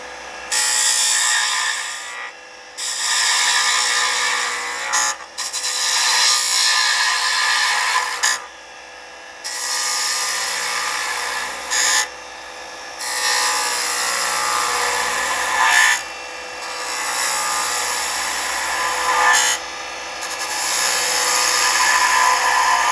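Wood being turned on a lathe while refining the end of a honey dipper handle, cut down to about a quarter inch, giving a steady scraping, rasping hiss broken by several short pauses as the tool lifts away.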